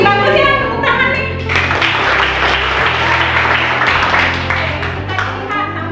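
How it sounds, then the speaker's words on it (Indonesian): A classroom group claps during a teaching-practice lesson. Applause swells after a tonal voice-like opening and keeps up as a loud, broad wash under lingering talk or background sound. "Bagus ya, tepuk tangan nih."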